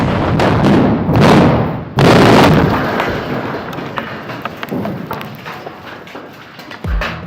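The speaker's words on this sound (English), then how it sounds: "The explosive charges were reduced to protect the nearby retaining wall from vibrations. Nevertheless, the blasts are impressive." Explosive charges go off at an underground tunnel construction site reached by a deep access shaft: two loud, close blasts in quick succession, followed by a long fading rumble and scattered debris clatter.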